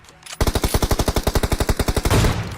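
Rapid automatic gunfire in a video game, a loud sustained burst of about twenty evenly spaced shots, close and dominant, ending in a rumbling tail.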